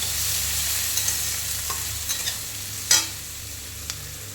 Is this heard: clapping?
no